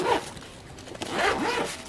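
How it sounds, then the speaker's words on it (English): A zipper on a Hot Logic Mini food warmer bag is pulled closed in a couple of close, raspy drags lasting about two seconds. "I just put it in my Hot Logic Mini and I'm going to zip it up."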